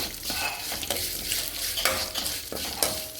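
Grated carrot fries in ghee for carrot kheer, a bright crackling sizzle broken by repeated scraping strokes of a spoon stirring the pan, close and continuous.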